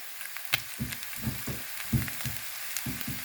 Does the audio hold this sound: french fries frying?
yes